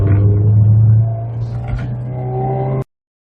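Interior engine drone of a 1987 Porsche 924 S driving on narrow country lanes in Buckinghamshire, a steady low hum that eases off slightly midway and then carries on until it cuts off abruptly.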